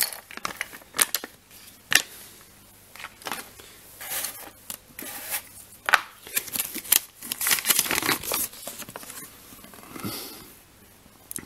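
A LEGO Simpsons series 2 minifigure blind bag being cut open with scissors, bursts of plastic crinkling and snipping close up, quiet with no speech.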